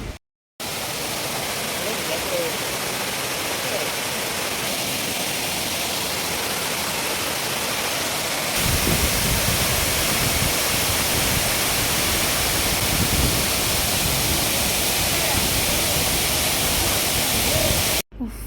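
A waterfall in Udupi roars as a loud, steady, broadband rush of falling water that carries on without a break, growing slightly heavier partway through.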